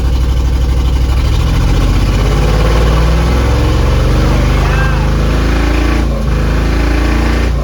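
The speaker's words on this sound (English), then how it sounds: "we just have a massive misfire" A 2004 Chevy truck's 6.0 engine idles roughly up close, its loud, uneven rumble stumbling and shaking as the cylinders misfire.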